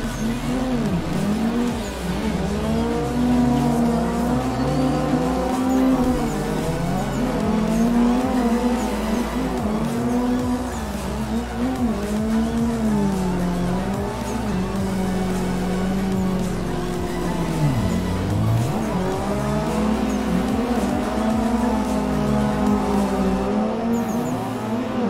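A drift car lapping Nikko circuit, its engine revving and rising and falling in pitch continuously as the driver works the throttle and handbrake through slides, loud and close with faint tire noise underneath.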